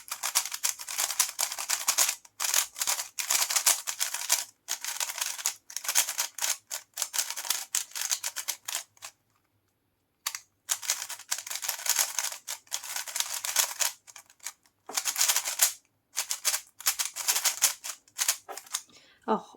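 A MoYu Weilong WRM V9 speed cube is turned rapidly in bursts of sharp plastic clicking and clacking, close to the mic and loud. The bursts stop briefly in a few short gaps.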